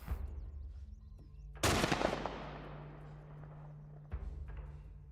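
A single loud gunshot bursts out around the middle from The Last of Us Part 1, with a long decaying tail, followed by a steady low hum and a weaker second thump near the end.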